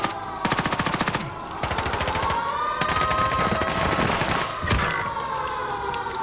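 Gunfire in a battle royale video game comes as rapid automatic bursts, loud and close, broken by short pauses and laid over a wavering siren-like tone.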